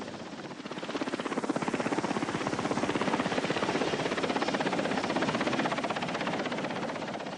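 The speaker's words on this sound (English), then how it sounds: "of evacuation helicopters were among the most admired troops serving in Vietnam" A Vietnam War medical evacuation helicopter drones steadily with rapid rotor chop, loud and close throughout, with no voices.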